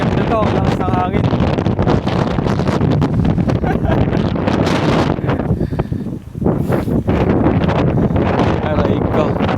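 Strong wind buffets the microphone outdoors on a hillside climb, a loud, continuous roaring rumble that eases briefly for a moment before surging back.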